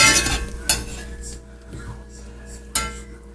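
A utensil scraping cooked bits off a pan while spaghetti sauce cooks, a few close scrapes and clinks over a soft sizzle, with a voice talking now and then.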